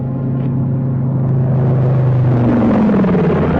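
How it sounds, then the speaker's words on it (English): Low-flying plane passing overhead, a steady loud engine rumble with a slowly falling drone building over a few seconds, alone without talk. "The plane is flying awfully low."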